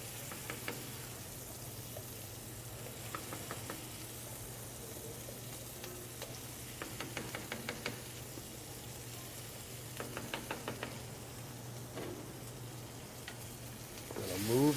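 Tomato puree sizzles and fries steadily in a hot pan, a constant low crackle with occasional scraping stirs, close and unbroken throughout with no talk over it.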